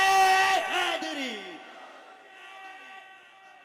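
A crowd at an outdoor religious gathering shouts back in reply to the Naara-e-Haidari slogan, a loud, drawn-out massed cry that tails off with a fading echo.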